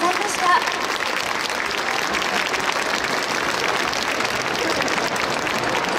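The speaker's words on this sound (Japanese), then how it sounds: "大きな拍手をお送りください" Steady, dense applause from a festival audience at the Koenji Awa Odori dance performance in Tokyo, sustained evenly throughout at moderate loudness, with a faint voice briefly audible at the start.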